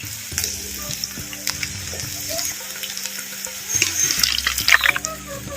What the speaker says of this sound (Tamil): இப்போ மசாலாவில் ஊற வச்ச வாழைப்பூவை இப்போ எண்ணெயில் வந்து சேர்த்துக்குவோம்